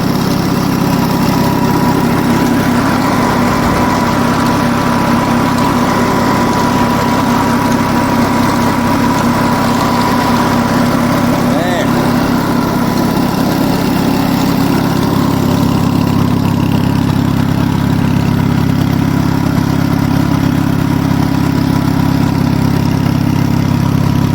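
An Onan US military generator engine runs loud and close, a steady unbroken drone with a low throbbing exhaust note that holds even for the whole stretch, no voices over it.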